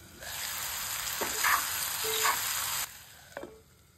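Spine gourd (kantola) frying on a low flame gives a steady, broadband sizzle that briefly swells midway and then drops off, followed by a faint clink near the end. No voices are present.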